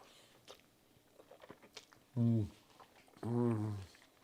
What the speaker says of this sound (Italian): Quando sento l'asparago in bocca, che lo mastico, croccante